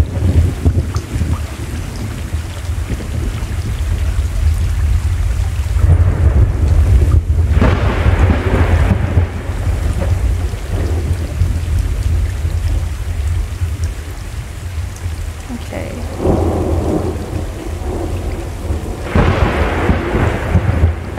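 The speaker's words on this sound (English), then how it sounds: "It's wet and raining." Rain and thunder in the Stray PC game: steady wet rain hiss with rolling low thunder rumbles and swells, loud and continuous throughout with no talking.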